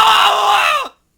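A single long, piercing scream in an audio drama, loud and close, sustained for nearly a second before falling in pitch and cutting off abruptly into silence.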